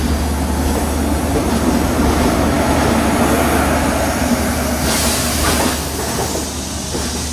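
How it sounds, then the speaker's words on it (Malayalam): Chennai Rajdhani Express running after departure from Vijayawada, heard from inside a second AC coach as a loud, steady rumble with rhythmic wheel clatter and hiss, easing slightly near the end. "കൃത്യസമയത്ത് തന്നെ വിജയവാഡ നമ്മുടെ വണ്ടി വിട്ടിരിക്കുകയാണ്"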